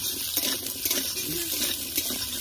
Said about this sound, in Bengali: ওই তেলে আবার আলুটা একটু ভাজে নেব, আলুটা ভেজে নিচ্ছি